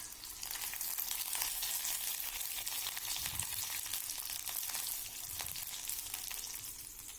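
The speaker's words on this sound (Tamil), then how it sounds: "எண்ணெய் சூடானதுக்கப்புறம் எடுத்து வச்ச சின்ன வெங்காயத்தை சேர்த்திக்கங்க. சின்ன வெங்காயம் சேர்த்ததுக்கப்புறம் பூண்டும் வரமிளகாயும் சேர்த்திக்கங்க." Shallots, garlic and dried red chillies fry in hot oil for peanut chutney, giving a steady, close, crackling sizzle with occasional stirring scrapes and no voices.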